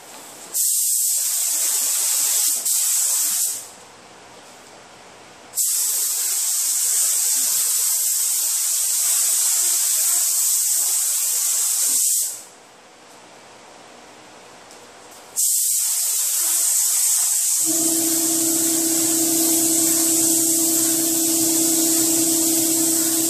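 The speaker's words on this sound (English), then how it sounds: "I'm ready to shoot the epoxy on the hood." Spray gun applying epoxy primer to the hood of a 2005 Chevrolet Tahoe during a strip and refinish, the gun slightly faulty; three long, steady hissing passes separated by short pauses, close and loud, with a faint tone in the last stretch.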